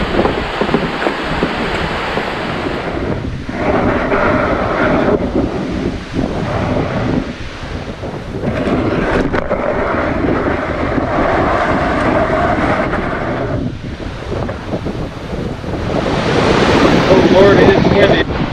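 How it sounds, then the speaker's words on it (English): Strong, steady wind roars and buffets the microphone at a pond, surging louder toward the end, with a continuous rushing noise throughout. "wind sure picking up"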